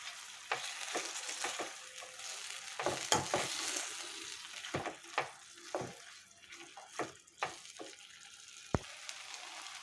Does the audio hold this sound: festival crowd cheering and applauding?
no